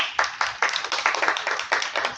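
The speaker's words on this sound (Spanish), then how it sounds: "Un aplauso para ustedes" A small group claps to thank visitors at a horror-themed talk, uneven, closely spaced hand claps from a handful of people nearby, without any voices.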